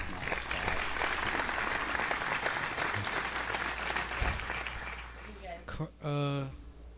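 Audience snap claps: a dense, steady crackle of many fingers snapping together for about five seconds, fading out before a voice briefly speaks near the end.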